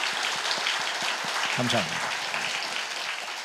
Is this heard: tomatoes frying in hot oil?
no